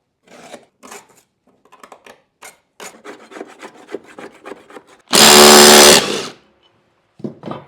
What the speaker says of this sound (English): I'm now going to clean off all the crud on this mower